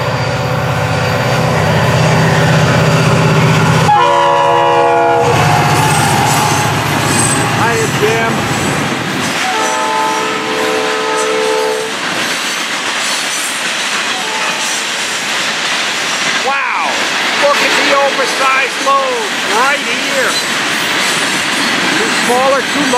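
A Florida East Coast 920 local freight train runs with the long hood of its locomotive forward. The horn sounds two loud blasts over the rumble of the rolling cars and squealing wheels.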